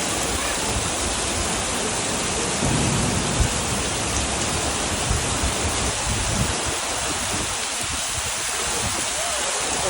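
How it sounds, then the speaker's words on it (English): Massive tropical downpour in Sandakan, Malaysia, a loud, unbroken roar of heavy rain pounding surfaces close by, steady and dense for the whole stretch with no pauses. "there's a massive downpour."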